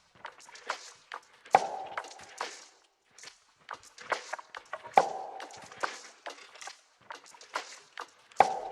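A lofi drum groove with no kick: crisp ticking hi-hat and percussion hits in a steady pattern, with a sharper layered snare crack landing every few seconds.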